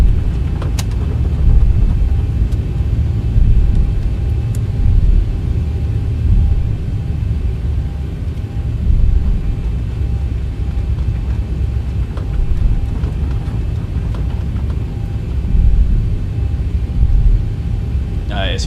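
Qantas Boeing 737 engines in a flight simulator, a loud, steady low rumbling drone that holds throughout with no pauses.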